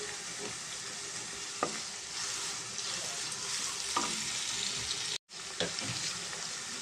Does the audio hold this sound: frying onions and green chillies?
yes